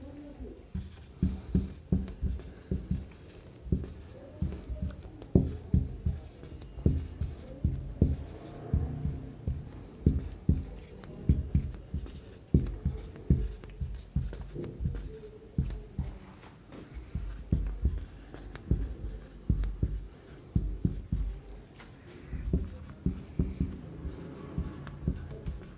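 Pen writing out a Class 10 physics question on real and virtual images, a steady run of short scratchy strokes with brief pauses, close and fairly loud, no speech over it.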